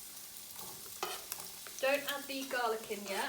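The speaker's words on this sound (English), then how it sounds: "There we go, has that nice satisfying sizzle." Onion frying in a pan of oil for a homemade pasta sauce, a steady crackling sizzle with stirring scrapes, close and fairly quiet, while a person talks over it.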